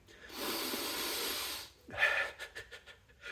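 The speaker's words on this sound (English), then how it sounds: "Whenever I sniff, that means I'm thinking." A long, breathy sniff through the nose, followed by a shorter snort and a few quieter breaths, close to the microphone.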